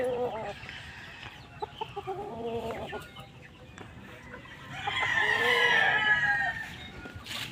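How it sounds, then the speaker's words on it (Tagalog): Chickens with chicks in a farm setting, a mix of clucking and short calls through the first half, then a loud drawn-out rooster crow near the end, fairly close. "Ito yung mga sisiw, may sisiw yan dyan sa loob."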